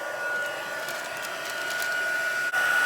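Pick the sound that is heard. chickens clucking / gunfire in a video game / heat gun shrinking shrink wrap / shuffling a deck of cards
heat gun shrinking shrink wrap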